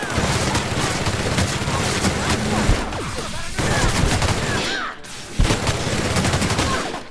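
Gunfight in The Outer Worlds video game: dense volleys of rapid gunfire and bursts crackle almost continuously, with a few short gaps and heavier booms, while voices call out over the shooting.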